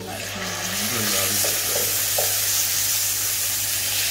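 Mutton liver tossed into a pan of browned garlic and ginger sets off a steady, close frying sizzle, with a few scraping stirs early on and a low hum underneath.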